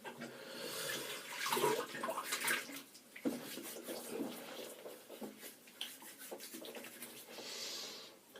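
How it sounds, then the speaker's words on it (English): Shaving brush rinsed under a running tap, close splashing and gushing water with soft rubbing and squelching bursts that rise and fall irregularly, with no talk over it. "my brush a quick rinse"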